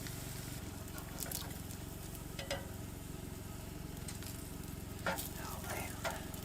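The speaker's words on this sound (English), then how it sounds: "Those real thin ones are definitely cooking fast." Thin wagyu steak slices fry in a pan with a steady, soft sizzle and crackle throughout, punctuated by a few brief clinks and scrapes nearby.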